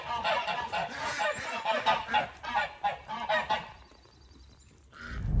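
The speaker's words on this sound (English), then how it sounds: "I gotta go feed the birds" Geese honking loudly in a close, busy flock at feeding time on an Alaska spring morning, overlapping calls for about four seconds before a brief lull and a final burst.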